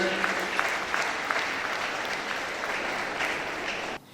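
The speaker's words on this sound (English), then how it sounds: "Please, can you clap for the President?" Audience at a pharmaceutical society gathering clapping for its president, a dense, even round of applause that continues steadily before cutting off abruptly near the end.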